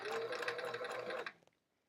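A sewing machine stitches an envelope pillowcase with a special presser foot, giving a steady close whirring run that cuts off after about a second and a half, followed by a couple of faint clicks and then quiet.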